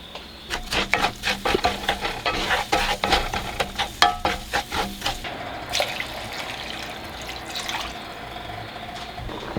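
Rice with garlic powder stirred in a pan, with close scraping stir strokes in a quick uneven rhythm over a soft sizzle, fading to a steadier hiss toward the end and no talk.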